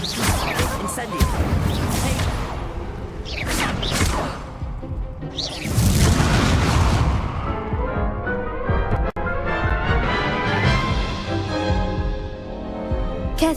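Incendio fire spell cast in Hogwarts Legacy, with several loud whooshing, crackling bursts of flame rising over continuous game music and effects.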